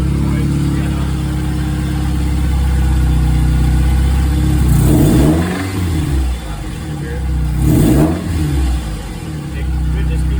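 A Mazda Miata engine with a suspected knock revs in two rising bursts over a steady idle, a rattling knock riding under the engine drone; a voice speaks over it.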